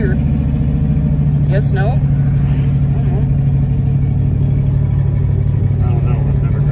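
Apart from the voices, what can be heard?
1972 Oldsmobile Cutlass engine driving and shifting gears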